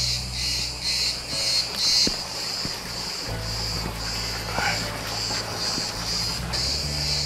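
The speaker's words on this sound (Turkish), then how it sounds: "sakince kuş seslerini, ağustos böceklerini dinleyerek" A steady, shrill drone of cicadas fills the air outdoors at a villa in Bodrum, Turkey, with scattered bird chirps sounding over it at a moderate distance.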